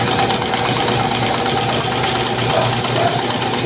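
A Kawasaki KC25 pressure washer engine runs steadily and loudly, a dense continuous mechanical drone with a faint rattle throughout and no talk.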